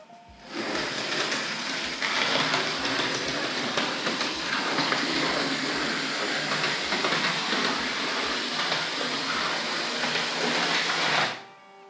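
A Hornby model parcels train runs steadily along toy track with a continuous whirring motor hum and regular rhythmic clicks over the rail joints. It stays close and even for about eleven seconds, then stops abruptly.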